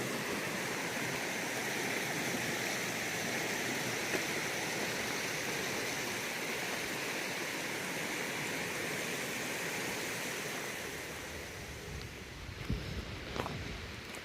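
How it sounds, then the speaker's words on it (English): A creek beside an old road on a hiking trail toward Pete's Branch Falls rushes in a steady, even wash of water noise, continuous and moderately loud, with a few faint knocks near the end. "but you have sights and sounds from the creek along your way."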